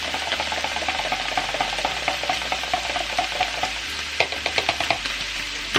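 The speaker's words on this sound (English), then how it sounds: "We're going to give that a bit of a stir." Cottage pie filling bubbling and sizzling in a pan while being stirred, a steady frying hiss with a run of rhythmic scraping and tapping strokes from the spoon, close up and without talk.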